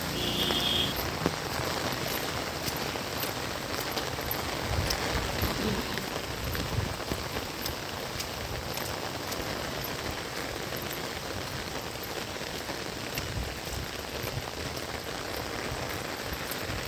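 Steady rain patters on surfaces, a soft, even hiss with scattered drops, continuing without a break and no voices.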